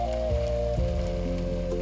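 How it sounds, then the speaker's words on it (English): Steady, soft rain falls continuously beneath low, sustained tones, with no voices. "Only the rain."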